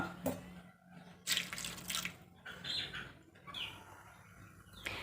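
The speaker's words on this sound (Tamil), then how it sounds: "இதில் கொஞ்சோண்டு தண்ணி ஊற்றி இதையும் வேக வச்சிடலாம்" Water pours into a cooking pot of vegetables and brinjal in a few splashy bursts, close and fairly loud, with short pauses between pours.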